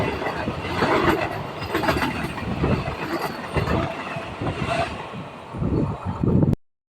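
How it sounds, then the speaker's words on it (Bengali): A Sealdah–Ranaghat AC local train rushing past on a station line, loud and close, with rolling rumble and wheel clatter swelling and fading before ending abruptly. "এখন এক নম্বর লাইন দিয়ে ছুটে বেরিয়ে যাচ্ছে শিয়ালদাহ রানাঘাট এসি লোকাল ট্রেনটি"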